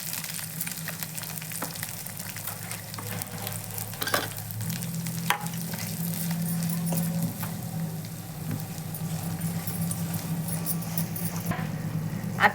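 Grated coconut frying with garlic-ginger paste in a pan for a village-style Marathi crab curry, a continuous soft sizzle with scraping stirs and occasional clinks throughout.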